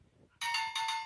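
A bell in the Minecraft video game gives a single bright, sustained ring that starts abruptly partway in and holds to the end, alone and fairly clear.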